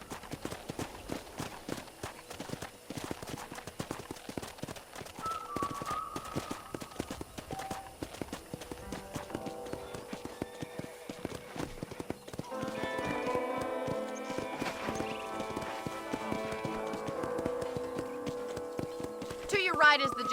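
A horse's hooves clip-clop steadily across a ranch in the western video game Red Dead Redemption, audible throughout while voices talk and music swells in the second half.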